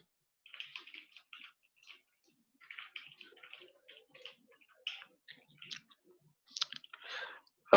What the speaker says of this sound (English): now I need to go ahead and type some questions